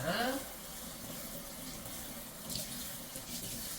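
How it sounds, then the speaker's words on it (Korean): Tap water runs steadily into a kitchen sink as ginger is washed during Korean cooking prep, with a spoken voice briefly over the splashing. "생강 씻어주시고."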